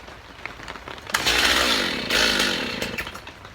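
A Stihl 029 chainsaw on full choke is pull-started, with a few faint rattling pulls before the engine catches and roars loudly for about two seconds, then revs again, close by.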